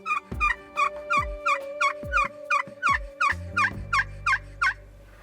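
A wild turkey gobbles repeatedly in a field edge during a spring hunt, a rapid series of loud, rattling gobbles in steady rhythm close by, with no talking over it.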